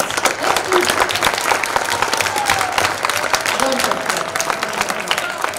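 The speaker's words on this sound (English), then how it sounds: "let's give a round of applause to our partners and your teachers and your parents" A room of students, partners, teachers and parents breaks into a round of applause, dense steady clapping throughout, with voices mixed in beneath the clapping.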